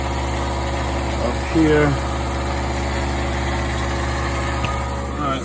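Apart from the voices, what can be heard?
Meon 1/2 hp garbage disposal running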